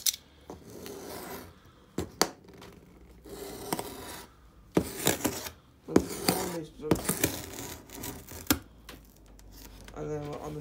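Knife forced into and scraped across a hard material, giving rough rasping strokes and sharp scraping bursts at irregular intervals, with a person talking at intervals.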